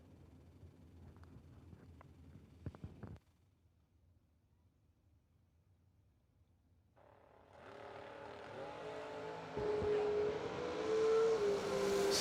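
A drag race run between Matt Morton's Mopar and Jeff Fenn's Camaro, with engines rising from quiet into a loud, building roar that swells and holds near the end, following a brief burst of crowd noise and a silent gap.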